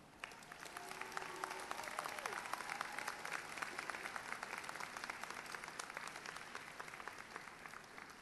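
Graduation audience at a university master's degree ceremony applauding, a sustained crackle of many hands clapping across a large hall, fairly distant and even, with faint voices mixed in.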